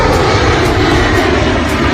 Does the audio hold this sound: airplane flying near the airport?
yes